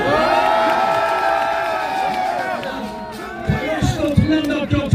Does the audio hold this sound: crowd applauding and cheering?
yes